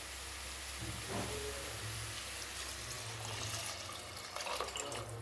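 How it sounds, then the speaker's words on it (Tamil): Rice-rinsing water pours steadily into a pot for pepper chicken rasam with a continuous splashing rush, close and fairly quiet, over a low background hum. "அரிசி தண்ணியை நான் இதில் சேர்த்துறேன்"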